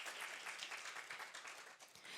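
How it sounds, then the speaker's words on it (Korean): Applause from a conference audience, dense continuous clapping at a moderate distance, steady throughout with no voices over it. "여러분 다시 한번 큰 박수 부탁드립니다"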